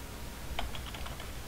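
Keystrokes on a computer keyboard while entering mod code, a quick run of roughly half a dozen light clicks in a brief burst, close and alone.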